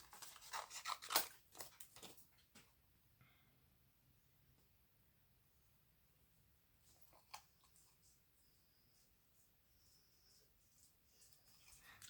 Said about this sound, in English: So I'll cut this one out of here.